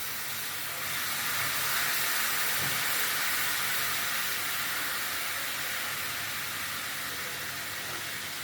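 Vinegar hits a hot pan of garlic for an eggplant moussaka, giving a loud, steady sizzling hiss that swells early and holds evenly throughout.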